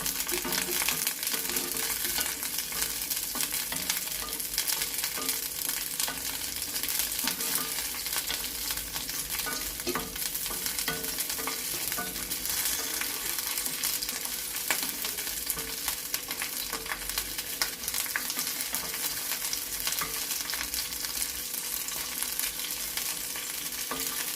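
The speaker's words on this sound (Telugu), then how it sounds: "పచ్చిమిరపకాయలు వేగినాయండి" Steady, crackling sizzle of green chillies frying in hot oil in a pan, close and continuous, with occasional faint stirring scrapes and no talk.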